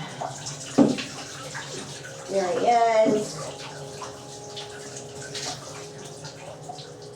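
Running tap water streams steadily while a cat is bathed in a tub, with a louder gush in the middle and a sharp splash near the start, under brief speech.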